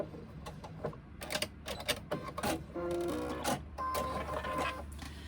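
A sewing machine stitching fabric for a sling runs in short rapid bursts with stops between, the needle clatter rising and falling, and no voices.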